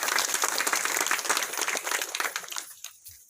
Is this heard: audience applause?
yes